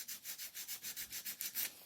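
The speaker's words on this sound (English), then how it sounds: "just a bit of fine sandpaper and just sort these joints out, you know, and finish them off nicely" Fine sandpaper rubbed back and forth over the joints of a bespoke wooden picture frame, a steady rhythmic swish of about ten strokes, close and quiet with no voices.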